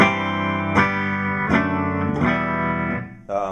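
An electric guitar plays a clean tone straight into an amp set at volume 3 with no reverb, bass around 5.5 and treble at 5. Several ringing chords are strummed in a steady sequence, close and loud, with no talking.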